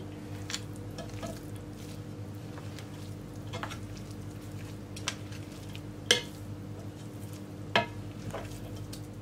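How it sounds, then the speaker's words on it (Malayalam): A pot of Kozhikode-style mutton biryani is stirred with a spoon: soft, steady scraping and shuffling, faint and close, punctuated by a few sharper clinks against the pot. "ബിരിയാണി ഒന്ന് നന്നായിട്ട് മിക്സ് ചെയ്തെടുക്കാം"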